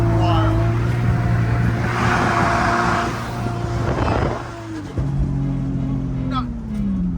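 A BMW M3 engine hums and drones steadily as the car drives fast, a sustained tonal note shifting in pitch with a gear change midway, with people talking over it throughout.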